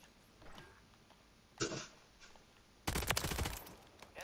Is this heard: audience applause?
no